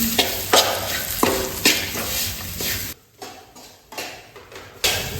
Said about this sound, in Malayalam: നമ്മൾ വറുത്തെടുക്കുന്നുണ്ട്